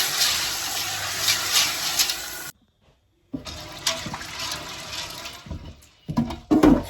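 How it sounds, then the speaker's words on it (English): Running water rinsing beans for Nigerian oloyin bean stew, a loud rushing pour that stops briefly, then resumes with splashing and sloshing as the beans are swirled, close by with no talk. "I'm going to rinse it twice and then add the cold water to cook it."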